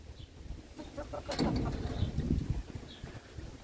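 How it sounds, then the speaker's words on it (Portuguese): Chickens let out of a henhouse cluck and scuffle nearby, with the noise swelling in the middle as the birds spill out, against some background movement. "Deixa eu abrir o galinheiro aqui. Vai lá, galinha."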